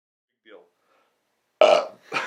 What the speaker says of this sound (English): Sorry, I had a burp on deck.